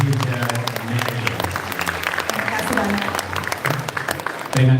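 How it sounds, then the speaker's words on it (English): An audience at a diplomacy talk show applauds a speaker with dense, sustained clapping that stays loud throughout. A voice is heard over the clapping. "please run a big applause to Miss Heather Mary."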